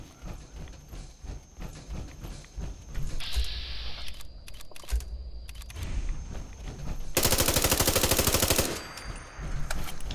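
Gunfire in Fallout 4, with rhythmic bursts of shots through the clip and one loud sustained rapid volley toward the end, no talk.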